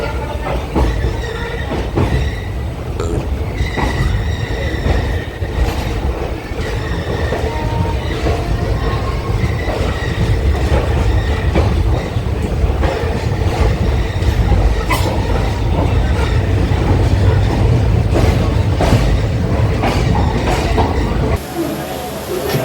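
A passenger train from Bengaluru to Tumakuru rolls steadily along the rails, a loud continuous rumble with rhythmic clacks and occasional metallic squeals, no talking.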